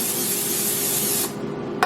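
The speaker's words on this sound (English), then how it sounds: "We're going to spray, season really well, stir, spray again" Cooking oil spray hisses over seasoned food for about a second and a quarter in one steady burst, close and loud, followed by a brief second spurt.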